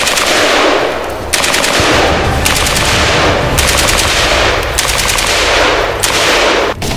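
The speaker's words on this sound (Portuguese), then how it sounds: "fogo inimigo!" Enemy gunfire from machine guns rattles in long, loud, continuous bursts, with rapid shots packed together and brief breaks between volleys, close and dominant throughout.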